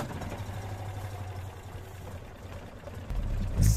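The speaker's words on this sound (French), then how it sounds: "Il a vraiment démarré à la manivelle." A 1986 Citroën 2CV6 Spécial's small engine, started by hand crank, idles with a low steady putter, rising into a louder burst of revs near the end.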